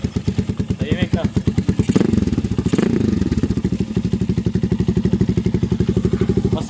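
Rusi Mojo 200cc motorcycle fitted with an SC Project canister exhaust, idling close by with a steady rapid thumping pulse and a couple of short revs, as people talk briefly over it.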